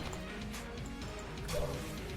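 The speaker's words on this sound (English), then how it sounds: "Break all the chests, get junkin'." Chests get smashed in the Enter the Gungeon game, a steady run of crunching, thwacking breaks over busy game audio, peaking near the end.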